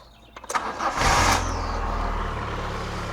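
A car engine cranks briefly and catches after a lambda sensor repair on a free-flow exhaust, then settles into a steady, fairly loud idle.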